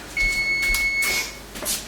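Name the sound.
kitchen timer beeping for pecans in the oven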